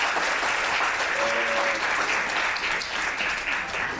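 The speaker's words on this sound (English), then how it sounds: "Let's give him a round of applause," Sustained applause from a large crowd, steady dense clapping that fills the whole stretch without letting up.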